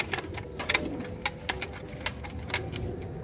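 Teddy pigeons coo in soft, repeated bursts close by on a rooftop, with a steady low hum in the background and no talking.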